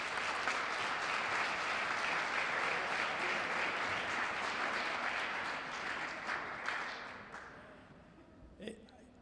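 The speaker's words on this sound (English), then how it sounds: "Everybody, can you give an applause for Mr." A crowd at a Black History Month celebration bursts into sustained applause, a thick wash of clapping that holds steady and then tapers off toward the end, ending with a few scattered claps and light voices.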